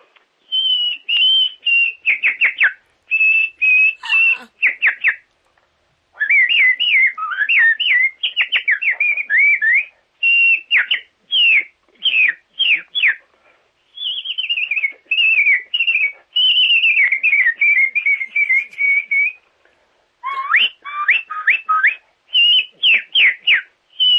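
A man imitates nightingale birdsong with his voice, producing rapid varied whistles, trills and chirps in bursts with short pauses, loud and close, with no talking.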